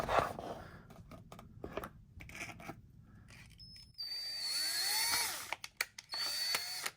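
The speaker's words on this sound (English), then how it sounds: "I'm going to drill a small pilot hole first and come back with a larger bit." A power drill bores a small pilot hole with a 5/64 bit into the fender of a 2020 BMW S1000RR, starting with short taps and clicks, then a rising, sustained whine with brief bursts at the end.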